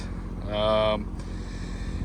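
A yacht's generator runs steadily after start-up, giving a low, constant mechanical hum close by. A brief, higher whining tone rises above it partway through.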